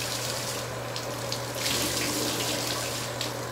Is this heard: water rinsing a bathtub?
yes